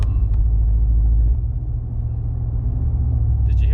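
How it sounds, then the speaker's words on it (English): A 2019 Ram 1500 pickup with its muffler deleted gives a deep, loud, continuous exhaust rumble, steady and close, easing slightly partway through, with no talking. "Did you hear that weird rumbling noise?"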